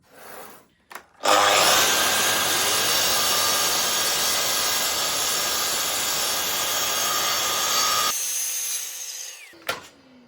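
A power saw rips steadily through wood for about seven seconds, loud and close, with a whine that drops away as the cut finishes.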